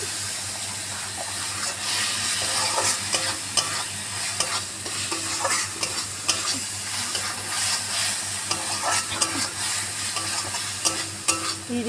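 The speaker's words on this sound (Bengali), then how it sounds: "এবার আমি এটা ভালো করে কষবো।" Spicy chicken liver curry being stir-fried in oil with chilli powder, a steady sizzle and frying hiss with repeated scraping and clinks of a spoon stirring the pan, close and continuous with no talk.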